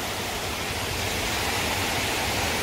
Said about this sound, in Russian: Сейчас встанем под водопад.